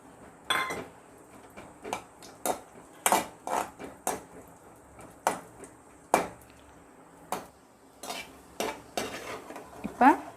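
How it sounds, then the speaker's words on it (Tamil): A spoon scrapes and clanks against a pan as broken cashews and raisins are sautéed in ghee, sharp irregular knocks repeating over a soft sizzle. "இதில் நம்ம உடைச்ச முந்திரியும் உலர்ந்த திராட்சையும் சேர்த்து வதக்கலாம்"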